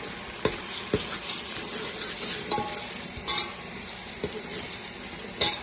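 Masala fries in a pan for a prawn recipe, a close, continuous sizzle broken by sharp clicks and scrapes of a spoon stirring every second or so.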